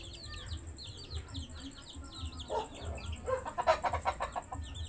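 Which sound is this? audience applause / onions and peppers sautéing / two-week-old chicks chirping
two-week-old chicks chirping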